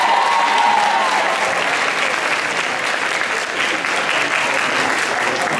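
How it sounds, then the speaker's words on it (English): Loud, sustained applause from a school assembly audience during a Year 11 leavers' assembly, steady dense clapping filling the whole stretch without a break. "So give Gina a round of applause"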